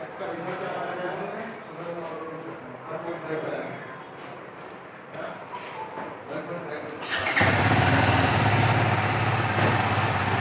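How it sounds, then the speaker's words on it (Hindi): An Apache RR 310 motorcycle engine fires up about seven seconds in, then settles into a loud steady exhaust rumble after a stretch of background noise and voices. "इसको स्टार्टअप करके आपको इसका एग्जॉस्ट भी सुना देते हैं"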